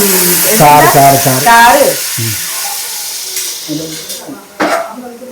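Beef sizzling in a frying pan as it is stirred for kappa biriyani, a steady hiss broken by scraping, with a voice talking loudly over the first half and again near the end.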